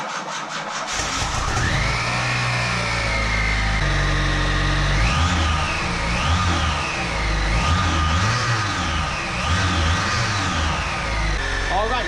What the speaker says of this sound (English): Let's go ahead and start it up, and hopefully it sounds normal